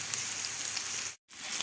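Minced garlic sizzling in a hot pan, a soft steady frying crackle broken by a brief silent gap before it resumes.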